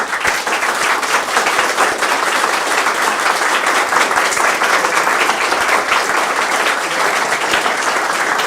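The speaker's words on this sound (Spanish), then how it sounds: "aplauso." Loud, dense applause from a lecture audience at a talk on economic systems, many hands clapping steadily and without a break for the whole stretch.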